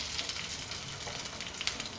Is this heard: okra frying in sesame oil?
yes